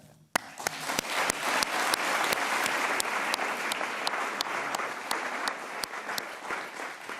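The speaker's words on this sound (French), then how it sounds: "on va aussi en profiter pour s'applaudir, nous tous et nous toutes" Loud, dense applause from an audience at a women's entrepreneurship event, a steady roar of many hands with individual sharp claps standing out, beginning abruptly and fading slightly at the end.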